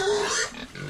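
A two-month-old pig squeals loudly and continuously while being injected with a vitamin B-complex and liver extract shot, one shrill cry lasting under a second.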